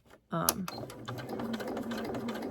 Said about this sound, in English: you may want to go a little slower than me. This is just how I sew.